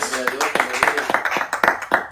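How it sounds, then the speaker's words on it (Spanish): A church congregation claps in a quick, irregular patter of distinct hand claps, close and lively, while voices carry on beneath it. "Denle un fuerte aplauso al Rey de Reyes"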